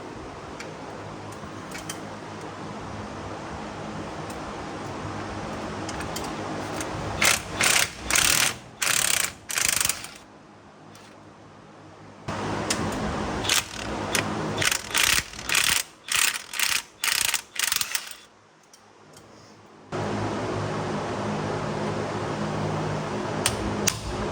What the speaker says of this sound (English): so he's pulling the axle now. It's 6 bolts.